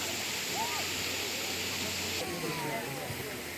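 A waterfall in a Japanese garden in Portland, Oregon, rushes steadily as a constant broadband wash, with people talking nearby over the water.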